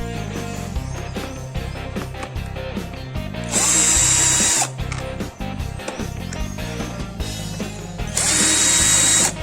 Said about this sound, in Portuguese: soltando esses 2 parafusos que prendem o conjunto na carcaça